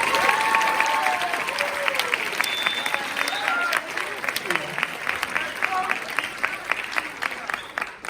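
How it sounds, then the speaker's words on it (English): An audience at a high school fall sports awards event claps steadily for several seconds, a dense wash of applause with scattered cheers and whoops mixed in, fairly close and loud throughout. "Yeah, you can clap that up."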